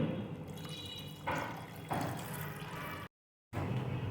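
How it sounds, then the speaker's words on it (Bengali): Water poured into a fish curry masala for a katla kalia, a continuous close splashing pour that swells twice, cuts out briefly, then resumes. "এবার এতে দিয়ে দেবো পরিমাণ মতো জল"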